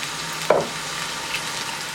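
Tomatoes fry with garlic and spinach in a pan, a soft, steady sizzle heard up close, broken by a single light clink of a utensil early on.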